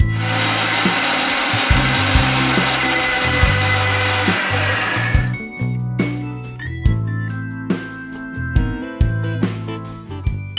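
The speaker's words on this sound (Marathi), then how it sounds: "यात पण मी थोडं पाणी घालून परत मिक्सरला लावून घेणार आहे" A mixer grinder whirs loudly and steadily while grinding leftover crab masala with added water, then cuts off about halfway, leaving quieter rhythmic thumps and tones.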